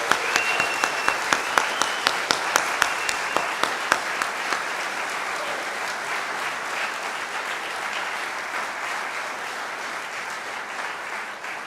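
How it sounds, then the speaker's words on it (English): A large audience at a university alumni awards ceremony breaks into applause, with a few sharp individual claps at first building into a full, sustained round of clapping that holds steady to the end. "will you please join me in a final round of applause for all of this year's award recipients"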